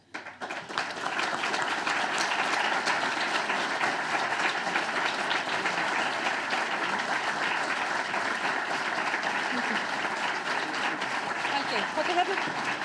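An audience at a party gathering claps steadily for four party chair candidates called up on stage before results are announced, a dense, sustained wash of applause lasting over ten seconds with faint voices underneath.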